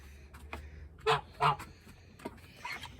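Geese honk repeatedly at close range, a few loud nasal calls with softer ones scattered around them.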